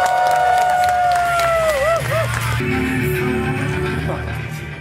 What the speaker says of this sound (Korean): 팬들에게 많은 환호를 받으며 거장 코지마 히데오 감독이 등장했습니다